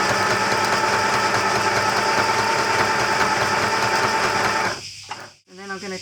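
A sewing machine stay-stitches two pieces of fabric together across the bottom edge at a 1 cm seam allowance, running as a steady, close whir for about four and a half seconds before stopping, followed by a brief voice.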